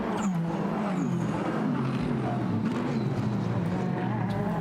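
GT4-class race cars on the Nashville street circuit near the War Memorial Bridge, a loud continuous engine drone with shifting pitch as cars accelerate and pass, no talk.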